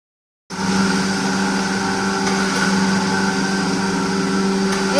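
A small home flour mill starts and runs with a steady droning hum and whine, close and unchanging, with no talk.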